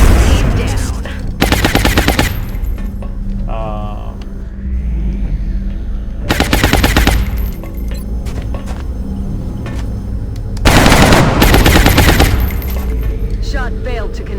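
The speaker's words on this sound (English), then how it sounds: "going to die to the power of the mighty arc rifle" Rapid automatic bursts from an arc rifle in a video game, three loud crackling volleys separated by quieter stretches of game ambience and faint electronic tones.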